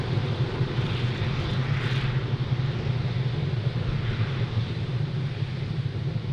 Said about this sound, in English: Falcon 9 has successfully lifted off from Cape Canaveral Space Force Station, carrying our stack of Starlink satellites to orbit.